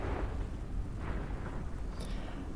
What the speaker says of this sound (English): The air suddenly cracked and split with the ear-shattering sound of a distant explosion.